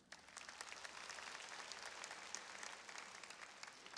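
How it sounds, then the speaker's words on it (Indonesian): A church congregation applauding during a sermon: sustained, quiet, fairly distant clapping from many hands for about four seconds, no talking over it. "Saudara boleh tepuk tangan untuk kebenaran ini."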